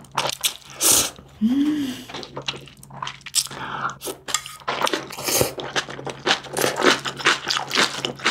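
Close-up eating of Shin Ramyun cooked with rice cakes and dumplings, with chili flakes and green onion, later mixed with rice: wet slurps, soft chewing and crunchy bites in a steady run, a brief tone rising near the start.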